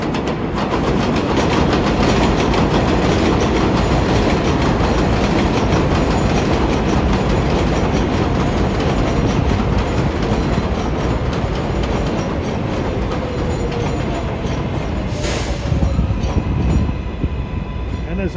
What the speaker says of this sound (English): And here comes another westbound local.